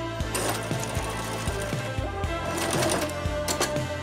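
A sewing machine backstitches in reverse along a costume hood, a rapid, regular mechanical clatter of needle strokes running continuously and close up.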